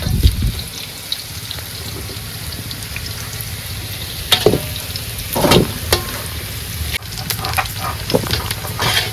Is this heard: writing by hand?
no